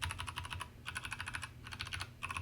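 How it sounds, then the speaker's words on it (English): Typing on a Tezzare TK61 keyboard fitted with Gateron red switches: dense bursts of rapid keystrokes in three or four runs with short pauses between, close and clear, no voices. "I think the case definitely sounds better on the Tezzare keyboard."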